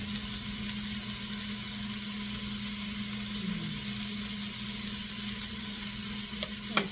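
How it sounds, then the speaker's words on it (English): Pork browns in a pan for a pork chili, giving a steady, soft, even sizzle with a low background hum and a brief sharp clink near the end. "It's still browning."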